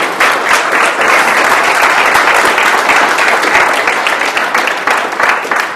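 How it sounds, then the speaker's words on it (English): Sustained applause from a crowd, dense steady clapping that stays loud throughout with no pauses. "Give him a round of applause, everybody."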